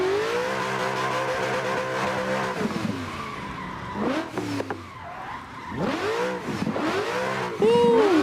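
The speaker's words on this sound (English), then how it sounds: "Get some smoke out these tires." A car drifts through a hairpin in the Assetto Corsa racing game, its engine revving in a steady high drone, then dipping and surging again while the tires squeal loudly through the slide.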